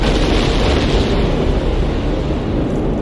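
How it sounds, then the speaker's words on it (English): Giant explosion aboard a ship in a children's animated pirate adventure, a loud, sustained rumbling roar of blast and fire that fills the whole span with no talk. "A giant explosion rocked the ship, splitting the deck in half immediately."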